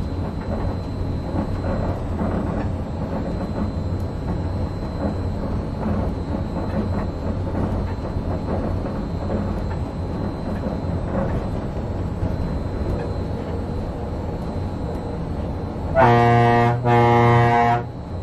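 Steady low rumble and rolling hum from the front seat of the Disneyland Monorail on a full loop, holding even throughout, with a brief louder tonal chime or horn near the end.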